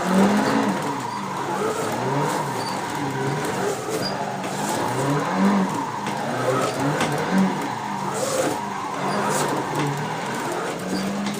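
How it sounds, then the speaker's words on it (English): A Nissan 180SX engine in Assetto Corsa revs up and down repeatedly in bursts as the clutch is kicked while drifting on a touge road, with faint tire squeals mixed in, loud and continuous. "you can hear me going crazy on this clutch pedal"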